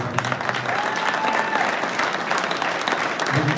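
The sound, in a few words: audience applause for Christy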